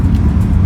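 Low, steady engine rumble of a Honda car idling after a mobile automatic transmission repair in Taganrog, heard briefly and close up with no break.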